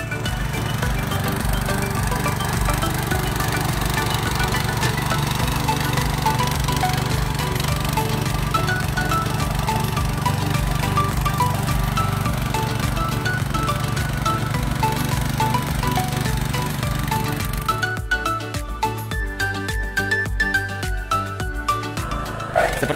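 A Firman FTL900G hand tractor engine with paddy wheels and a rear plow chugs loudly and steadily through sticky soil, a rough rhythmic motor drone close by, with clanking growing louder toward the end.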